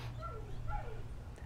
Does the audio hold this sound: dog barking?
yes